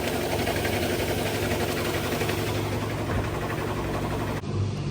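A GE top-load washing machine drum spinning fast, a steady loud mechanical whir with low rumble, continuous and close, with a brief dip near the end.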